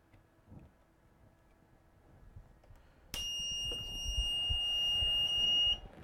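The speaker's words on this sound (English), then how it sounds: "Wish there was a way to make that beep go." An electronic beep from a Di3 laser cutter's electronics, fitted with a Cohesion3D Mini upgrade kit, sounds as a loud, steady, piercing tone. It starts abruptly partway through, holds for about two and a half seconds, then cuts off over a low background hum.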